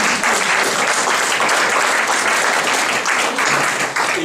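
A live audience applauds steadily during a comedy show at a media library, a dense, continuous wash of clapping that holds loud for about four seconds and fades slightly at the end.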